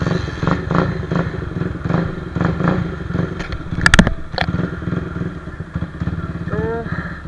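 A new superbike with a slightly weak battery is started, and its engine idles with a loud, steady rumble and a few sharp clattering blips up close, under bursts of nearby talking.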